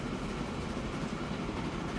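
A passenger train in the Transport Fever video game rolls along the rails with a steady, dense rumble and track noise that holds even and unbroken throughout.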